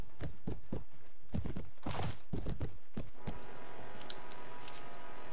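A donkey's hooves clip-clop in the medieval combat game Mount & Blade: Warband, a brisk run of distinct hoofbeats for about three seconds, then only faint background ambience.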